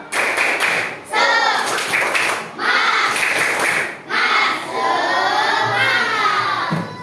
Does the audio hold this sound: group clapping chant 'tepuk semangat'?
yes